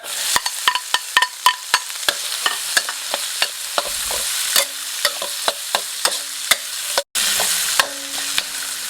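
Garlic, tri-colour bell peppers and onion are stir-fried in a pan, with steady sizzling under a rapid series of clicking spatula strokes against the pan.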